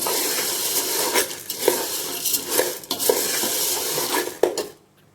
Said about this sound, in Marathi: मी भाजून घेते बघा असे मसाले भाजलेत आपण